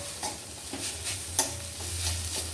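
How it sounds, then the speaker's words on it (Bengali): A gram-flour stuffing for bitter gourd sizzles in a pan, with irregular scraping strokes of a spatula stirring it. No voices. "এরপর এগুলোকে বেশ ভালো করে একটু কষিয়ে নেব"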